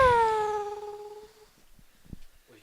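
A human voice imitates a Formula 1 car going past, a brief falling, pitched whine that fades out within about a second and a half, followed by quiet.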